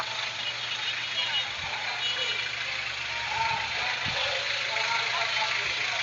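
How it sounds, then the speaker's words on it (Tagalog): Jeeps roll past in a political caravan in Camarines Sur, a continuous mix of idling and moving engines with a low steady rumble, dense traffic noise and occasional thumps, while people talk over the road sounds. "Yan, may mga jeep pa."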